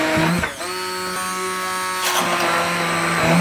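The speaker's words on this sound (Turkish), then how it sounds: "Şimdi bunu tekrar blenderdan geçireceğim." Kitchen blender whirring as it blends homemade ice cream mixture, a steady motor hum running throughout after a brief start, loud and close with no talking.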